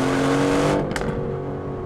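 A new Aston Martin Vantage with an AMG-sourced engine pulls hard, its loud harmonic roar sustained for under a second before cutting back to a softer, fading whir.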